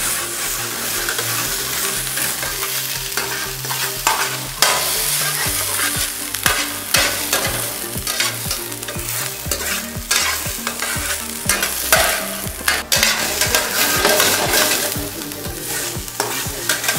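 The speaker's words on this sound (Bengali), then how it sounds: "দিয়ে খুব ভালো করে নেড়ে ভাজতে হবে।" Chopped capsicum stirred and fried in a pan for clay pot chicken, a loud steady sizzle with continuous scraping of a spoon against the pan throughout, no voices.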